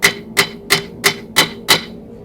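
Six evenly spaced, ringing hammer blows on a steel feather being forged over an anvil, each a sharp metallic strike, close and loud, about a third of a second apart.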